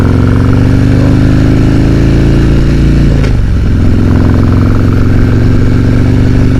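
A Harley-Davidson Road Glide fitted with Progressive 444 shocks and Monotube front suspension rumbles steadily down a bumpy road, its loud engine drone continuous, with a brief jolt and dip near the middle.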